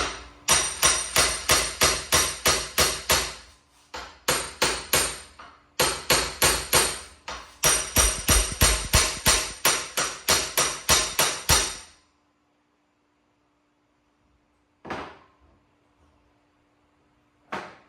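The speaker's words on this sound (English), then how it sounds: "You want to hit right here." Loud, rapid metallic hammer blows on the cap of a custom Nissan Skyline driveshaft tube in quick steady runs for several seconds, then silence broken by two lone strikes.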